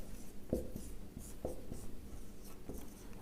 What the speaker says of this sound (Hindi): इसको थोड़ा सा आगे करके लिख देते हैं